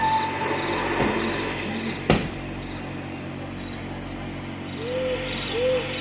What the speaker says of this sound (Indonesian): Burung hantu.